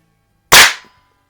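A single sharp, loud crack from a Crosman F4 air rifle firing a supersonic pellet through a suppressor, with a quick decaying tail and silence on either side.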